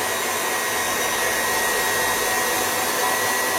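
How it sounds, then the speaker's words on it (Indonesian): Two electric mixers whirring at high speed while beating cake batter, a loud steady close-up motor drone with no pauses and no speech. "Ini kita ada 2 mixer di sini ya, Chef. Jadinya kayak lebih berisik dibanding sebelumnya."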